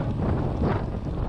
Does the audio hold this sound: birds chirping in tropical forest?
no